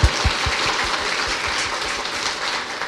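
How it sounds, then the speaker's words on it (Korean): Dense applause from a crowd, steady and sustained throughout, with a few louder claps at the start. "박수 치려면 화끈하게."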